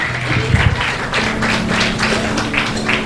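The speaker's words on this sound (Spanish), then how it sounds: "Dale el aplauso fuerte a él." Loud congregational applause fills a church, dense clapping with bursts of cheering voices over it and a low hum underneath.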